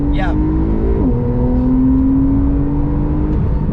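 A Porsche 911 Targa 4S with a PDK gearbox accelerates from inside the cabin, engine droning loud and steady with a quick gearshift dip in pitch early on before climbing again.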